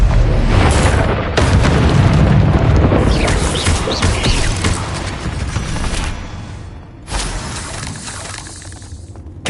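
Confringo fire spells blasting in Hogwarts Legacy, a dense barrage of loud booms and shattering bursts that keep overlapping, with a short dip before another heavy blast and crackling debris.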